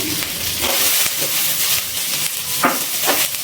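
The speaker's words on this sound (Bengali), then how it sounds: "মটরশুঁটি দিয়ে একটু নাড়াচাড়া করে নিয়েছি।" Green peas stirred into fried spices in a pan for a vegetarian radish ghonto give a steady, close sizzle and hiss, broken by a few soft scraping stirs.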